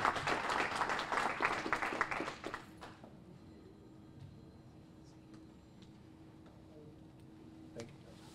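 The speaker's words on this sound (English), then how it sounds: "Give him a round of applause." Audience applause at a supermarket announcement event, loud clapping from a crowd for about two and a half seconds that then fades to a quiet room hum.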